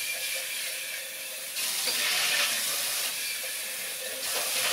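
Moccamaster coffee maker brewing coffee, giving a steady hissing, steamy gurgle that holds constant and swells slightly midway, close and alone without voices.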